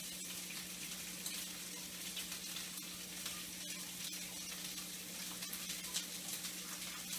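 Garlic fries in a pan for a Mexico City mole de olla beef soup, a faint, continuous sizzle with small crackling pops running steadily throughout.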